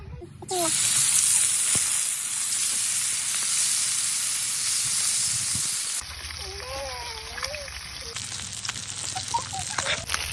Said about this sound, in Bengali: মাছ ভাজি করার জন্য তৈল দিতে আসি